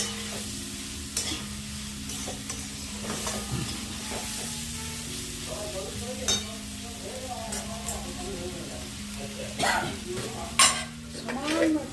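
Food fries in a little oil in a pan, a continuous close sizzle broken by stirring scrapes and occasional utensil clatter, with a low steady hum running underneath.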